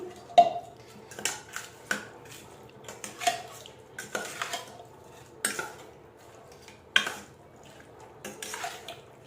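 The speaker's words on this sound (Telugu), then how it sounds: "ఒకసారి ఇదంతా మొత్తం కలిసేటట్టు కలుపుకోవాలి." Chicken pieces mixed with salt and turmeric in a bowl for chicken pickle, a series of sharp clinks and scrapes of a utensil against the bowl at irregular intervals, close and fairly quiet with gaps between strikes.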